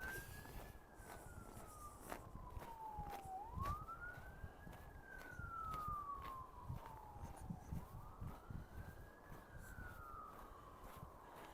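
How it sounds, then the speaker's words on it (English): An emergency vehicle siren wails in slow rising and falling sweeps, somewhat distant and steady, over low traffic rumble outdoors. "Sirens always mean somebody's having a bad day."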